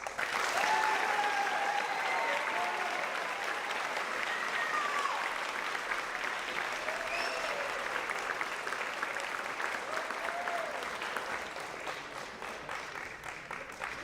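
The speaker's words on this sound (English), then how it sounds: "Please give a round of applause." Sustained applause from an audience at a high school JROTC awards ceremony, dense even clapping with a few voices mixed in, holding for over ten seconds before gradually tapering.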